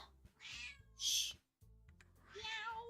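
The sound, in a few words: cat meowing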